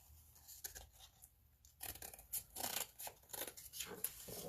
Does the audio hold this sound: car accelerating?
no